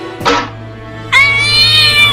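A cat trying to get out of a cage gives a short meow, then a longer, loud, drawn-out yowl close by, with a low hum underneath.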